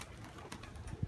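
Pigeons released into the open sky coo low and soft, with a couple of brief, near calls rising near the end over faint outdoor background noise.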